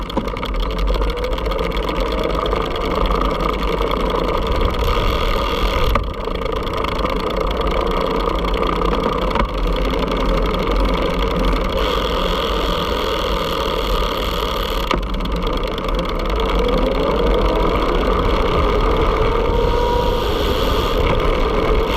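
A Blix Vika electric folding bike rides on throttle, its motor giving a steady whine under constant wind and road rumble that lasts throughout the ride.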